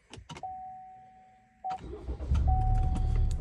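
A 2017 Chevy Cruze diesel engine cranks and fires after sitting for weeks, a short clicking whine followed by a solid rumbling idle that builds and holds steady, close and loud, with a thin electronic chime tone running in the background.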